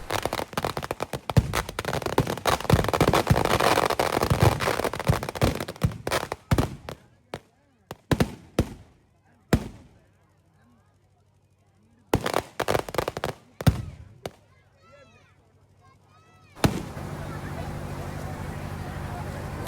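Firecrackers burst at a village goddess festival in rapid, dense volleys of loud cracks, then break into scattered sharp bangs, a near-silent lull, and more bursts, ending in a steady hissing spray.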